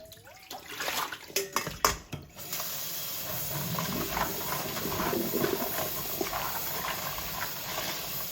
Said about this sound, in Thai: ก็ล้างน้ำธรรมดาเท่านี้เอง